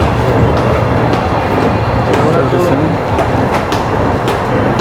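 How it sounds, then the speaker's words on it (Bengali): Metro train pulling into a station in Guangzhou between Renhe and Sanyuanli, a loud continuous rumble and rattle of wheels on rails with faint rhythmic clacks, heard close. "ট্রেন এসে পড়ছে"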